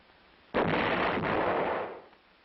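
A field artillery howitzer fires a single loud, close round with a sharp onset, and the roar rolls on for about a second and a half before fading.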